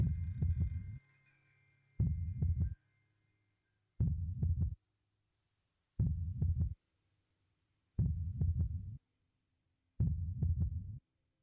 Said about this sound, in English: Sounds like a heartbeat.